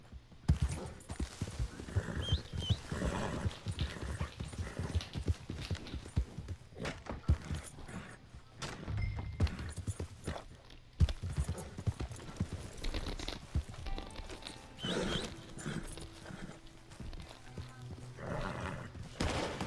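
Horse hooves clip-clop steadily in Red Dead Redemption 2 gameplay, a loud, close rhythmic galloping patter with a brief whinny, in-game gunfire and faint voices mixed in.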